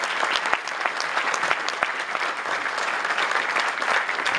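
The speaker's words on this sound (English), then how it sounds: "let's just take a minute to give them a round of applause." Steady applause from a symposium audience at a NASA Langley centennial event, a dense continuous clatter of many hands clapping at moderate volume in a large hall, without talk.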